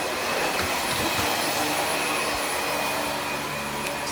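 A household hoover runs at home, a loud, unbroken motor drone with a faint high whine that holds steady throughout, no voices over it.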